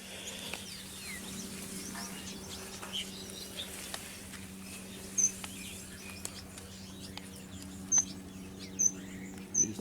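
Red siskins chirping after a wet night in an aviary, short high chirps scattered over the clip and growing more frequent toward the end, set against a steady low hum.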